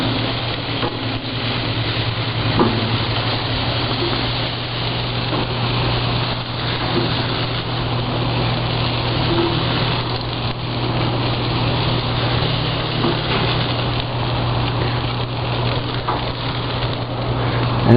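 Sausages fry on a grill with a steady, dense crackling sizzle and a low constant hum underneath, lasting throughout without speech.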